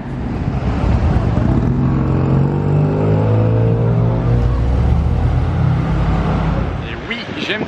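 A Spyker sports car drives past with a loud, steady engine drone and rising tone, close by amid roadside traffic, then fading near the end.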